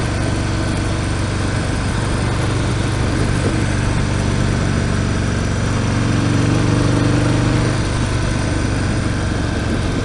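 A 2018 Harley-Davidson Breakout motorcycle engine runs in third gear on a demo ride, a steady, loud, continuous drone mixed with wind rush, close and constant throughout.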